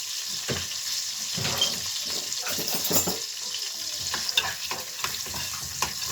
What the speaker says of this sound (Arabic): اهي الزبده كده سخنت، نحط شويه الفول